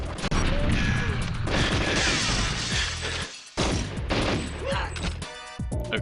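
Dense burst of game gunfire in GoldenEye 007 on the N64, loud rapid shots and crashing impacts packed together with a brief gap before more firing resumes.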